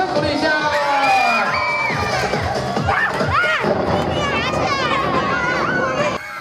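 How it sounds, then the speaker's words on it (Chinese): A children's audience at a Christmas event with a magician cheers, shouts and whoops loudly and continuously, with speech mixed in throughout and the noise dropping off just before the end. "掌声鼓励一下"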